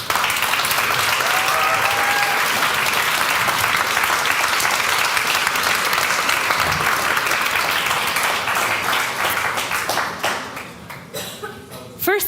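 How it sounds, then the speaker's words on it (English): Loud, sustained applause from an audience at an award ceremony for the 4th Climathon in Bratislava, 2023, dense and steady for about ten seconds before thinning and tapering off. "And a big round of applause for everyone"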